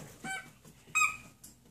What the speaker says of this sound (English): Who's got the squeaky toy?